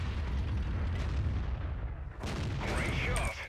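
An artillery piece in World of Tanks fires and its shell lands, with a heavy rumbling boom followed by a second crackling impact burst, loud and close throughout.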